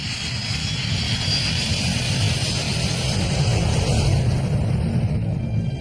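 A Bashkirian Airlines Tupolev 154 airliner in flight gives a loud, steady engine roar with a broadband rumble that holds constant, alone and without voices.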